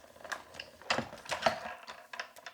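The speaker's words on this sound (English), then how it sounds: "we'll run this right through our die cutting machine to cut it all out" A die cutting machine feeds cardstock through its rollers, giving a run of mechanical clicks and ratcheting whirs at close range, with no talking.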